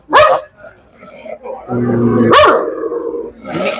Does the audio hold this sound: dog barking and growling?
yes